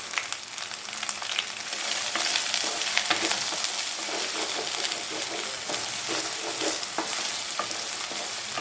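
Chicken masala, chilli powder and turmeric fry in a pan for chicken varuval, a dense crackling sizzle with scraping stir strokes throughout, close and continuous without speech.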